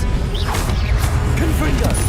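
Expelliarmus disarming spell cast in the Hogwarts Legacy video game, short magical swishes and whooshes with a light impact over a steady game soundscape, all within about two seconds.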